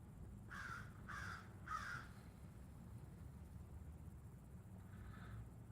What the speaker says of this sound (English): Hear that crow?